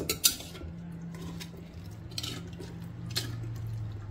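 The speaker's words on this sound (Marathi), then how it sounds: "आता पुन्हा एकदा आपण फोडी व्यवस्थित तेलात मिक्स करून घेऊया." Raw mango pieces are stirred into oil in a bowl for pickle, giving wet, slippery squelches and a few sharp clinks of a spoon against the bowl, close and fairly quiet.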